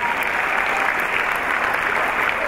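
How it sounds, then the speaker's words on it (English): Crowd applause at a live stage event hosted by an MC, steady dense clapping filling the whole stretch without a break, fairly loud and close. "Now, I want to clap for you."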